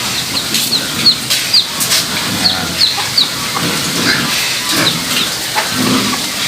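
A hen clucks repeatedly in soft, short bursts nearby, with faint chick peeps and farmyard rustling around her.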